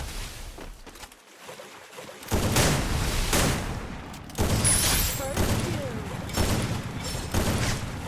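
Bursts of sniper rifle fire in a 1v1 video game match, several loud booming shots spread across the clip with game sounds between them, over a player's excited talk.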